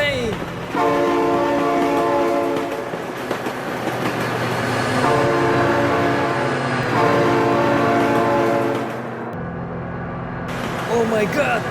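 In the BeamNG.drive video game, a train passes close and loud with a long repeated horn blaring over rumbling wheels, while a person exclaims excitedly in the background.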